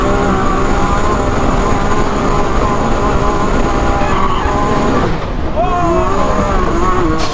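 Exhaust roar from a Can-Am X3 side-by-side whose worn cutout valve sits half open. The loud, steady, rasping drone runs for the whole stretch with only a brief dip near the end.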